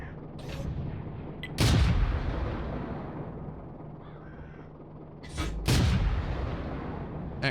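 Two heavy tank gun blasts in World of Tanks, a Churchill VII firing, each a loud broadband boom with a short decaying tail, spaced several seconds apart over steady game background noise.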